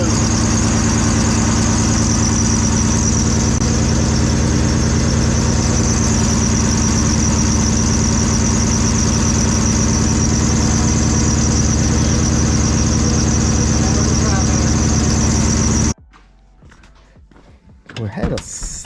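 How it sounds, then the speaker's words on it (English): A car engine with a slight misfire, running low on E85 fuel, drones loud and steady at close range for about sixteen seconds, then cuts off abruptly to quiet background noise. "We had a slight misfire. I think we was getting low on E85."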